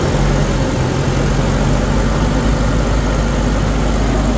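Steady engine drone from a Nissan NV350 van held at about 1500 RPM, a loud, even low hum with no change across the stretch and no voices over it.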